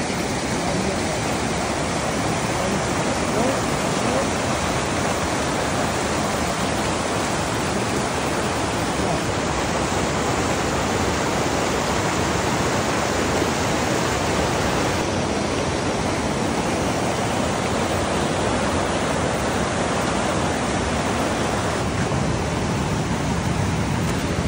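The Sumobay River in Barangay Mahaba, Cabadbaran City rushes past as a loud, continuous wash of flowing water, steady and close throughout with no voices.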